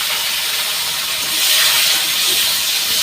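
Chopped tomato hits hot oil spiced with whole cloves, cinnamon and cardamom, giving a loud, close, continuous hissing sizzle that swells around the middle and carries on steadily, with no voices.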